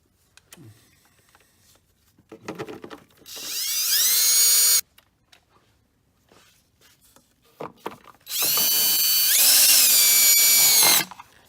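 Power tool driving bolts into the cylinder head of a Hyundai Sonata Hybrid 2.4L engine during a head gasket job, heard as two sustained whirring bursts of a few seconds each, separated by quieter clicks and handling noises.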